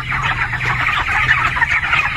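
A dense chorus of chickens clucks continuously inside a poultry farm, many birds overlapping in busy, chattering calls with a low steady hum underneath.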